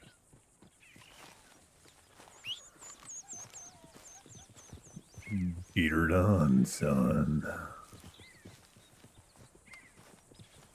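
A horse in Red Dead Redemption 2 walks with steady clip-clopping hooves, then lets out a loud whinny about midway, with background game sounds and a brief spoken line.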